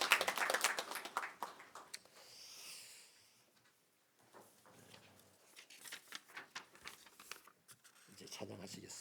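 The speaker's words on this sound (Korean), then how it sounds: "우리 힘차게 박수 쳐서 안녕하겠습니다" A church congregation claps together at the close of a prayer: a dense burst of hand claps for about two seconds, then quieter rustling and a voice talking over the room.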